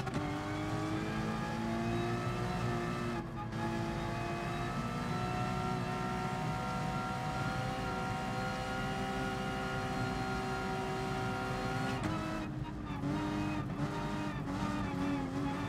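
A race car in GT Sport drives toward the pits with a loud, sustained engine drone whose pitch holds fairly steady. A few brief dips and shifts come late, and tire noise runs underneath.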